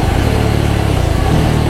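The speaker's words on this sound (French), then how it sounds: "Il est chouette ce bruit de échappement" Exhaust note of a Voge 300 AC single-cylinder motorcycle ridden in the rain, a loud close pulsing thump with a steady rapid beat throughout the short burst.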